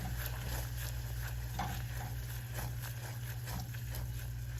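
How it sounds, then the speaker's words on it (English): Food in a pan being stirred, with a continuous low sizzle and faint repeated scraping strokes, steady and fairly quiet with no talking, cut off at a steady level. "Give that a stir. Let's incorporate everything."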